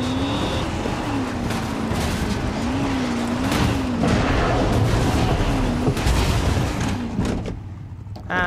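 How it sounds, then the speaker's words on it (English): In Far Cry 6, a car tumbles and rolls over, a loud continuous rush of engine roar, tire noise and crunching impacts with a wavering engine tone throughout. "And we roll the car."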